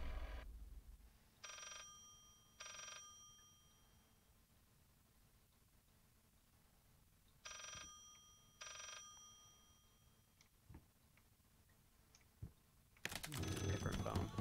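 A telephone rings in the Layers of Fear horror video game, with two paired bursts of ringing separated by long quiet stretches and faint background noise, ending in a loud burst of other game sound.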